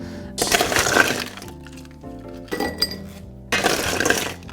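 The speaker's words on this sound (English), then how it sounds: "we're gonna start with some ice in this wonderful wine goblet style glass" Ice cubes tumble into a wine goblet-style glass in three close bursts of crackling, clinking impacts, with a brief ringing of glass between the drops.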